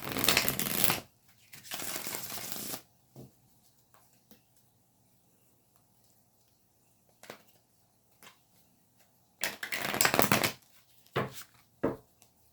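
Rider-Waite tarot cards being shuffled in quick riffling bursts, two at the start and another near the end, with faint handling taps between and quiet room stillness.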